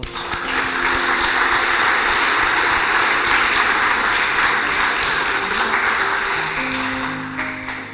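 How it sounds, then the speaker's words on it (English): An audience at an ambassador's visit to a synagogue applauds steadily for several seconds, the clapping swelling quickly and then tapering off toward the end. "They deserve an enormous round of applause."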